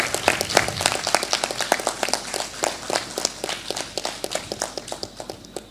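An audience applauds at a stage play at Periyar Thidal, dense sustained clapping from many hands that holds steady throughout.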